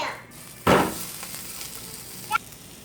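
Onion frying in a pan, with a short loud burst of sizzling and stirring followed by a softer ongoing hiss and one brief scrape near the end.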